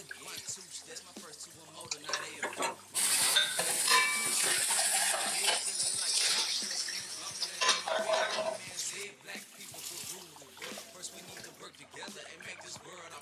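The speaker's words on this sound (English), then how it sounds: "Come home washing dishes and shit." Dishwashing at home, with clinking cutlery, dishes and pans knocking and running water that starts loud partway through and continues, close by with occasional voice sounds.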